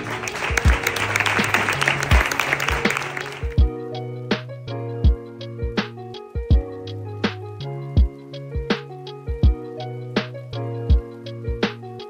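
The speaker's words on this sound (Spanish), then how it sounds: "Un aplauso." Audience at an awards gala applauds steadily for several seconds, then the clapping thins into sparse individual claps while background music plays on.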